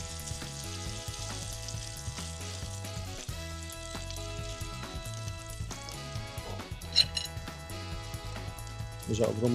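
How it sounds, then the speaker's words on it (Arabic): Chicken rolls frying in olive oil in a pan, a steady close sizzle with occasional clinks of a utensil against the pan and a voice talking over it. "رح احط لها زيت زيتون بدي شقرها"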